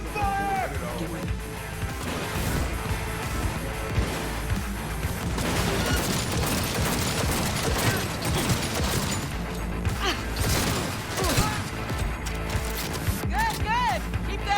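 Heavy volleys of gunfire crash and boom continuously after a shouted order to open fire. Dense, loud overlapping shots and impacts carry on for the whole stretch, with occasional shouting voices over them.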